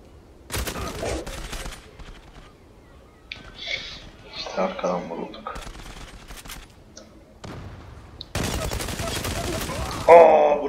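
Gunfire in a video game, several bursts of rapid shots in separate clusters with a longer dense volley near the end, while someone talks excitedly between and over them.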